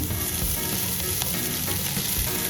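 Potatoes fry in a pan as a dense, steady sizzle that stays loud and even throughout, with no talking.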